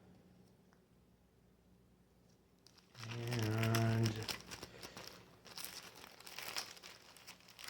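Crisp plastic packaging crinkles loudly close by as old photographs are unwrapped, a sharp burst of rustling that settles into lighter, intermittent crackles, with a brief spoken word at the start.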